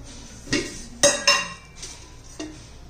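A metal kadhai heating on the stove as oil is poured in, giving about five distinct clinks and knocks of metal against the pan, close and clear against a quiet background.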